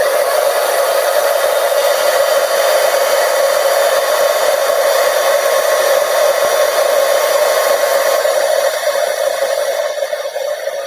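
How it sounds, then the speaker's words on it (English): Heat tool blasting hot air to emboss a stamped card, a steady loud whirring roar that runs unbroken and alone from start to finish. "I'm going to grab my heat tool. Hopefully it doesn't get too loud here"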